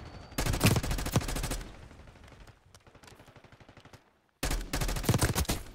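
Loud, rapid automatic gunfire in a Black Ops 6 multiplayer match comes in two close bursts with a quieter stretch of softer shots between them and a brief silence before the second volley.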